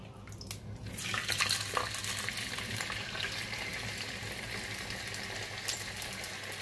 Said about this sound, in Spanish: Cubrimos la sartén con unas cucharadas de aceite de oliva virgen extra y vamos dorando nuestro filete de pollo.